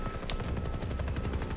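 A helicopter in Far Cry 3 thumps with a rapid, steady rotor chop, fairly close and continuous, with a brief sharp crack early on.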